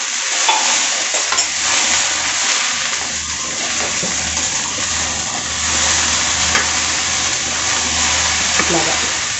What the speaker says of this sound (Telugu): ఇట్లా పైకి కిందికి మొత్తం కలుపుతున్నామంటే మొత్తం ముక్కలన్నీ కూడా చక్కగా